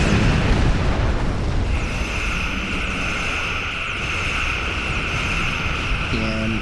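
A generator explodes in the space combat game Star Trek Online, a loud broad rumbling blast that rolls on into a steady roaring wash with a sustained tonal hum, no voices present.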